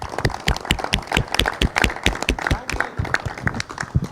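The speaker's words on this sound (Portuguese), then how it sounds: "Sim, aplauso." Participants at a neighborhood community meeting in Otrobanda clap after a talk. The sharp, close hand-claps come in a quick, steady patter throughout, with some voices mixed in.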